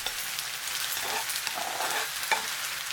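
Shrimp sizzle softly as they are stir-fried in a pan for udon noodles, a steady crackling hiss broken by brief scraping strokes of stirring.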